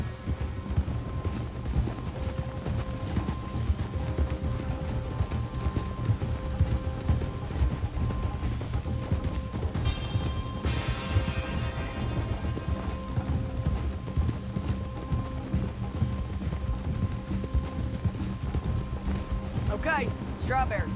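Horse hooves clip-clopping in the game Red Dead Redemption 2, a steady rhythmic patter under a dense bed of music and ambience throughout, with a brief swell of higher texture midway.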